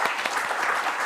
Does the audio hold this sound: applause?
yes